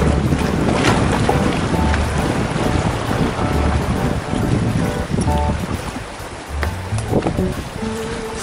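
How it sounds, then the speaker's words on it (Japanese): Strong sea waves during sabiki fishing from shore: heavy, close surging water and gusty wind rumble fill the scene, easing slightly toward the end as a few faint tonal squeaks appear. "波やば。"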